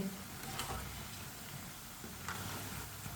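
Besan pakoras fry in oil in a kadhai with a soft, continuous sizzle, faint and steady, with occasional light clinks from stirring.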